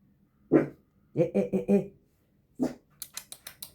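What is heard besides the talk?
dog barking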